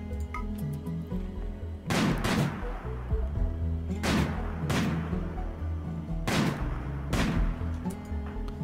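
RimWorld combat gunfire, six loud shots landing in pairs and singles at a few seconds' spacing over a steady background hum, with no talking during the volley.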